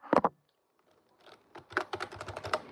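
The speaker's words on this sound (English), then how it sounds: "Sorry if the typing's annoying. I got a mechanical keyboard." Keys clack on a mechanical computer keyboard, a quick cluster of strokes, then a pause, then a rapid run of typing, close and fairly quiet.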